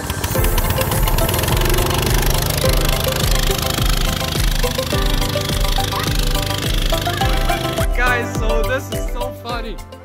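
A small engine on a homemade vehicle still without a throttle chugs and knocks loudly in a rapid, uneven rhythm, then cuts out near the end and leaves rattling and clattering.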